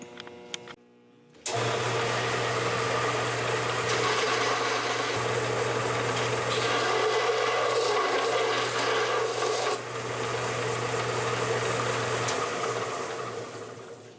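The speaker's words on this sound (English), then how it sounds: "Give them a quick tune-up on the belt sander. Give them that brushed finish look." A belt sander giving metal shock brackets a brushed finish for a vintage modified race car, a sudden start into a continuous loud motor hum with rasping abrasive grinding that shifts as parts are pressed on, close up, no talk.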